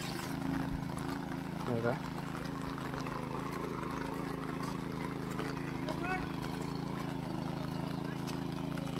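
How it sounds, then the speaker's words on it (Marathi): A tractor puddles a flooded rice paddy during traditional rice planting at Vaibhavwadi in Konkan, a steady low engine drone with faint watery churning throughout, under someone talking. "हे भात चिक्कल करायला सुरुवात झाली ट्रॅक्टरने"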